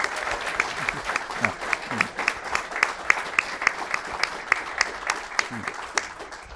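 Live podcast audience applauding, sustained rhythmic clapping from a crowd filling the room, fairly loud and even throughout, with faint voices underneath.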